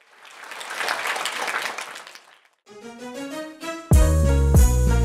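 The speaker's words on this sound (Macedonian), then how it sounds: "Ајде ек аплауз, лаке." Applause from a crowd at a music event, a swell of clapping lasting about two seconds, followed by synthesized music with a loud bass-heavy beat.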